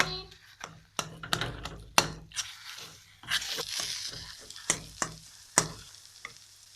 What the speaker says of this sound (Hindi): हलवा हमारा पक रहा है।